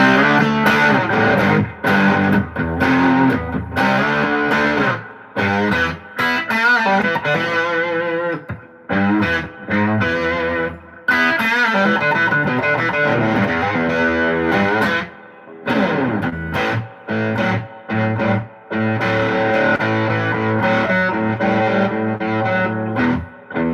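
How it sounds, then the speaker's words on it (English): Electric guitar played through a Tweed Harvard-style amp with reverb and tremolo, loud rock riffs and chords in bursts with brief pauses, with a gritty, driven tone. "It'll sound like one of the best fucking Tweed Harvards you've ever played with reverb and tremolo"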